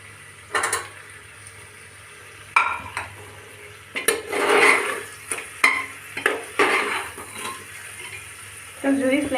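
Tomatoes fry with mutton in a pan over a gas flame, soft sizzling punctuated by repeated clattering and scraping of a utensil against the pan as it is stirred.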